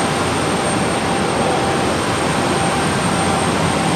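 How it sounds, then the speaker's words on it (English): Aircraft auxiliary power unit spooling up during refueling, a steady, loud broadband turbine roar with a high whine on top, constant throughout and close by. "That's the APU's just been fired up"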